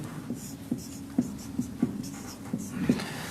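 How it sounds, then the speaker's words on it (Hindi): Marker or chalk writes on a board in a series of short scratchy strokes with brief pauses between them, close and moderately loud over a faint room hum. "मैं लिख देता हूं यहां पे"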